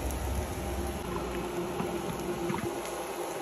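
Shrimp fritter batter cooking in a pan on the stove gives a steady, soft sizzle and bubbling that holds even throughout, close and alone.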